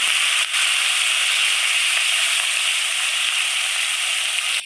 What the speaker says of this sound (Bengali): এবার মাছটাকে ছেড়ে দিচ্ছে ভাজার জন্য